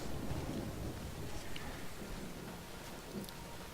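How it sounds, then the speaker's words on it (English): Steady rain with a low rumble of thunder in a rainy outdoor area of Skyrim, a fantasy video game; a constant wash of falling rain fills the scene at moderate level with no voices. "gosh darn it, it's raining a lot lately"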